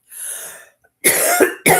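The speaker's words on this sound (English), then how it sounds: "I'm sorry, I still have this residual cough." A person coughs during a crochet tutorial: two harsh, loud bursts close to the microphone, with a brief quieter rasp before them.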